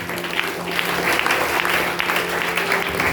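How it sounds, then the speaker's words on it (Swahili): A church congregation applauds together, a dense, steady wash of clapping that stays loud and even throughout, with no speech over it. "Basi tupigie makofi mazuri."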